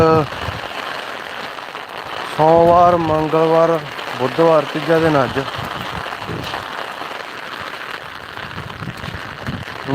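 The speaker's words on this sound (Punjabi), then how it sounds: "ਫੁੱਲ ਮੀਂਹ ਆ ਬਾਈ" Steady broadband hiss of heavy rain falling on farmland in Punjab throughout, with someone talking over it for several seconds in the middle.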